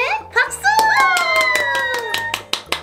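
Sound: hands clapping

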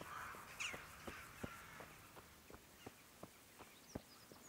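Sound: crows cawing in Kingdom Come Deliverance video game

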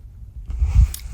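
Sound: chewing Kinder Bueno chocolate bar

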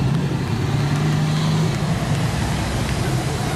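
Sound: race car driving a lap of honour at speedway

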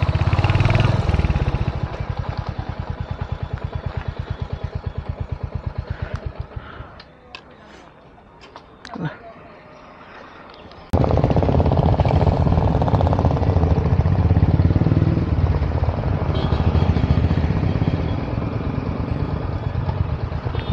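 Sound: motorcycle riding off-road

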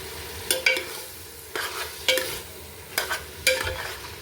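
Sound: meat being stirred and fried for Kabuli pulao

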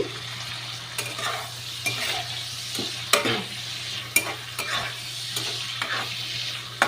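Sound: frying prawns in a pan with spice paste

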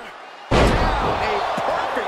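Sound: crowd cheering in WWE 2K23 video game

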